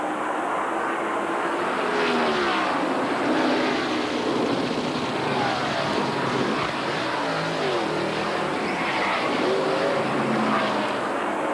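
A stock car at the 1992 Hooters 500 NASCAR race rolls down pit road at about 55 miles an hour, its engine droning loudly and steadily as other race engines roar around it, with no voices.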